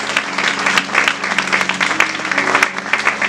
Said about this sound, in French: Est-ce qu'on peut acclamer le Seigneur pour l'homme de Dieu?